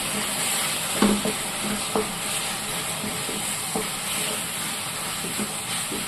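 Turmeric and Kashmiri chili powder fry in oil with a constant, close sizzle and hiss, punctuated by a few soft stirring scrapes and taps.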